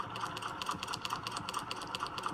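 A sewing machine stitches along a line on a Golden Gate quilt block, its needle chattering in a quick, even rhythm of close mechanical taps, steady and moderately loud with no talk.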